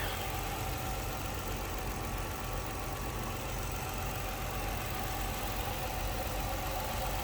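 A 2006 Chrysler 300 Limited AWD sedan's engine idles in a steady, even hum, heard close and continuous with no talk over it.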